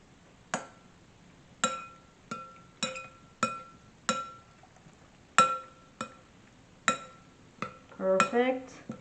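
A utensil clinks against a bowl while crab and green mango salad is mixed, giving about a dozen separate sharp ringing taps at an uneven pace, fairly quiet, with a brief voice near the end.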